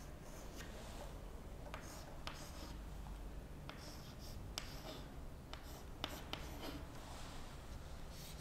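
Pen or chalk writing out an example during a programming lecture on DO loops, with quiet scratchy strokes and light taps scattered over a steady low background hum.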